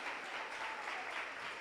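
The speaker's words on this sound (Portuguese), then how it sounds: "Aplauda mais forte" A church congregation claps together during a worship service, a steady dense wash of applause at moderate level with no distinct individual claps standing out.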